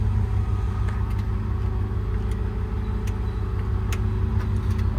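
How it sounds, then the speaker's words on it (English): The compressor on a 2022 Ford F550 4WD service truck with an IMT Dominator bed runs with a steady, fairly quiet low drone and hum, and a few faint ticks come through. "Nice and quiet operation on the compressor."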